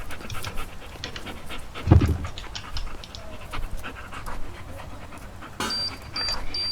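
A dog pants close by in steady rapid breaths, with a brief louder thump partway through and no talking.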